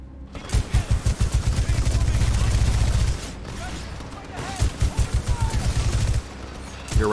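Rapid automatic gunfire in a live-fire exercise in the video game Titanfall 2, loud sustained bursts with heavy low thumps, a brief lull and then another long volley.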